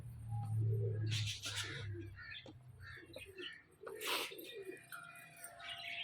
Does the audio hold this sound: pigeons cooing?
yes